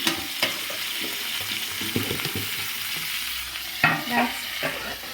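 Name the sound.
stirring cauliflower and fish curry in a pan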